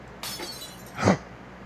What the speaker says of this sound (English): The sound of glass shattering rents through the air as soon as her hold on it loosens.